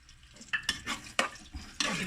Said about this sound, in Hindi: ऑयल लेके मैंने इसमें अदरक लहसुन डाल लेना है। अदरक लहसुन फ्लेम जो है उसको हाई कर लेंगे।